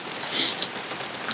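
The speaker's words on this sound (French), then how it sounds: "En tout cas, ce qui pleut encore pas mal." Rain falling outdoors at an old wine estate, a soft, steady patter close by, faint and continuous with no voices.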